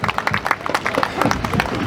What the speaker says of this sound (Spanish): Palmas para los recién casados y sus padrinos.